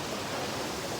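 Forest stream flowing on a trek route to Netravati, a steady broadband rush of running water heard close and alone, with no voices.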